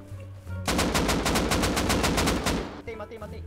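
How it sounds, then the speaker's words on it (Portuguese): Rapid automatic gunfire in the survival video game Rust, a loud continuous burst of shots lasting about two seconds, with faint background sounds before and after. "Como que eu errei esse tiro, velho?"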